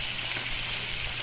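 Fish frying in hot oil gives off a constant bright sizzle and hiss, steady and close with no pauses.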